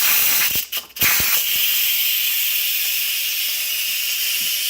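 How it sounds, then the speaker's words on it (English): Steam hisses loudly and steadily from a pressure cooker's release valve during pot roast cooking in a home kitchen, a broad continuous rush with a few brief clicks early on, running unbroken to the end. "Alright, the pressure is ready to be released."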